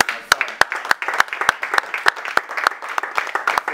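Audience breaking into applause for a welfare coordinator at a French-speaking gathering, a steady run of sharp, close hand claps in a quick regular rhythm, with no speech over it.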